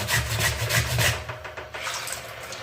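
A potato is grated for sago potato papad, giving a steady, close, continuous rasping scrape with faint rhythmic strokes and no talk.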